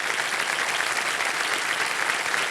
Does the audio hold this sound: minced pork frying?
no